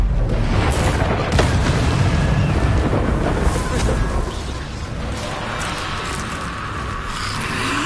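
Confringo explosive spell blast in Hogwarts Legacy, a loud rumbling boom with a sharp crack, followed by a fading roar that settles into steady noise.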